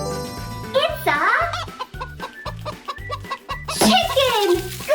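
A cartoon chicken clucks in quick, bright bursts over a steady bouncy music beat, with a voice and giggles mixed in.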